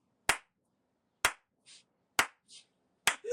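Someone mimics a mother's indignant clapping with four sharp, deliberate single claps spaced about a second apart, separated by short breathy sounds, in an otherwise quiet room.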